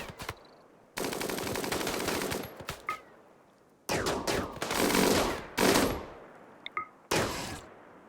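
Automatic gunfire shooting at bugs in the video game RimWorld, sharp bursts of rapid shots separated by quiet gaps, loud and close with faint game tones in between.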